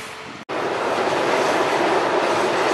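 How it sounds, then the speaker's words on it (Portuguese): CPTM PR22 locomotives 6211 and 6212 rolling through a shunting move toward Lapa station in São Paulo, a loud, steady rumbling roar of wheels and engines passing close by without talk. "a puxada das locomotivas aqui na direção, no sentido Estação Lapa"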